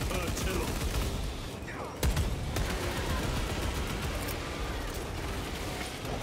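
Gunfire in the video game Warhammer 40K Space Marine 2, dense rapid bursts and crackling shots over a busy battle din, with one sharper blast near the middle.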